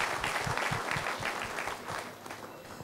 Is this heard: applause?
yes